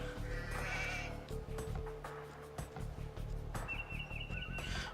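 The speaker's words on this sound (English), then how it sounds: "Also, you seem to own sheep in this one." Sheep bleat in the video game Age of Empires II, several wavering calls overlapping one another over a steady hum of game ambience.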